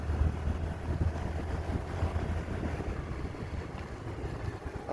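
Honda Activa scooter ridden at speed, steady low rumble of engine and road with constant wind buffeting the microphone, no talk.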